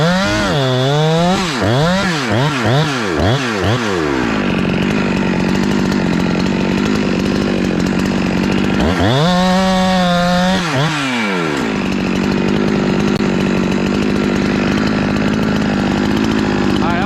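A Husqvarna 372XP big bore chainsaw with a dull chain cuts through rotten wood, loud and close. Its engine whines through several rising and falling revs before holding a steady high-pitched scream in the cut, then revs again.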